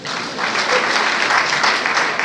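An audience at a university event applauds in a broad, sustained wash of clapping that swells slightly and holds steady, many hands together filling the room.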